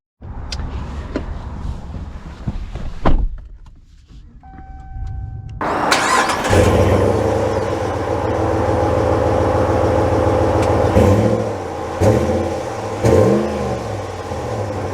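A Ram Rebel Havoc Edition pickup's engine cranks and catches with a loud start, then settles into a steady idle and gives a few sharp revs, close up, with no talk.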